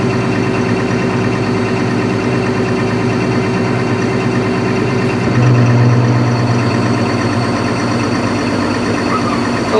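A small Case backhoe's engine runs at a steady idle, loud and close, with a brief deeper rise in load midway before settling back to a constant drone.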